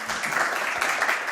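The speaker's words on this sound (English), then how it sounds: "could I have a round of applause?" Audience applause at a documentary film screening about mountain rescuers, a short, dense wash of clapping heard at a steady level with no talk over it.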